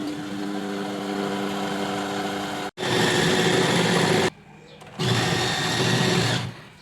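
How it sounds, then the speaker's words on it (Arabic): An electric mixer whirs steadily while beating ghee with sugar until white and fluffy, a loud continuous motor drone interrupted twice by brief pauses, with no one talking over it. "وهبدا كده ان انا اضرب لحد ما اخلي السمنه دي بيضه وهشه"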